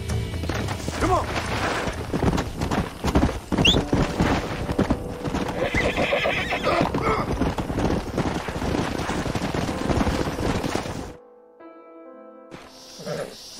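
A horse in Red Dead Redemption (2010) whinnies loudly while hooves clip-clop busily alongside, close by and continuous for about eleven seconds before cutting off to near silence.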